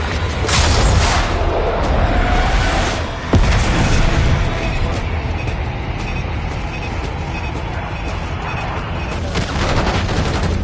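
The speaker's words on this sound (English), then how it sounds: "Bombs away." Explosions and gunfire from the Call of Duty Black Ops 6 campaign fill the scene continuously, with a heavy boom near the start, a sharp blast at about three seconds, and dense combat noise throughout, all loud and without speech.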